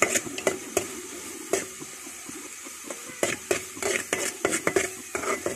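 Ingredients fry in a pan under constant stirring, with a soft sizzle beneath a run of sharp spoon scrapes and clinks against the metal that grow busier toward the end, close up and without speech.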